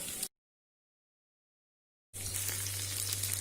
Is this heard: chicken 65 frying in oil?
yes